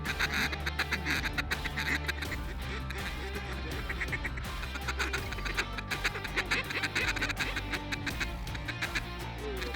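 Elite duck calls mimic mallard feeding chatter over a barley field during a hunt, a dense, continuous rapid quacking and clucking from several callers at once, loud and close throughout.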